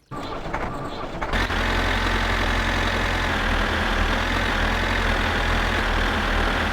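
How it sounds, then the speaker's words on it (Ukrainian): An old tractor engine in the driving game My Summer Car starts with a brief cranking burst, then settles into a loud, steady, rumbling idle that runs without a break. "І саме так заводиться трактор, який простояв в гаражі мого діда в селі 20 років."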